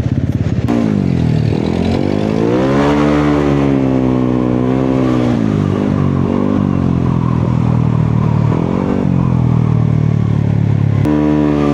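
Motorcycle engine running steadily during a ride, a loud continuous drone with shifting pitch as the throttle rises and eases, close and alone without talk.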